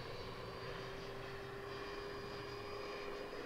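An E-flite F-18 electric ducted fan RC jet with an 80mm fan flies outdoors, producing a steady, smooth whine with a sustained tone that holds evenly throughout. It sounds distant and fairly quiet, with no talking.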